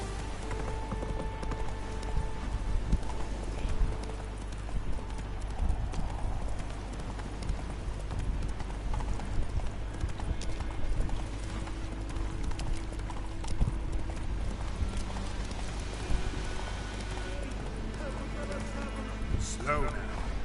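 Hooves of the horse Roach clop steadily at a gallop on a road in The Witcher 3, rhythmic and close, with rain pattering underneath and voices talking over the hoofbeats.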